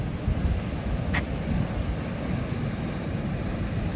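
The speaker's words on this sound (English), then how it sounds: "but they are good waves. Getting some splashes, which is good." Ocean waves breaking and splashing on the shore at Puerto de la Cruz, Tenerife, a steady low rumbling wash of surf with a faint wind buffeting the microphone and no talk.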